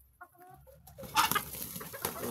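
A few soft clucks from chickens give way to a burst of louder squawking and scuffling as chickens and ducks tussle nearby, the noisy commotion continuing in short flurries.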